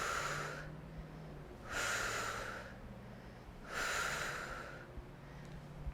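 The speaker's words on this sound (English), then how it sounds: "Exhale, inhale." During a seniors' calf and ankle exercise, a person breathes in a slow, steady rhythm, with three airy breaths close to the microphone and quieter pauses between them.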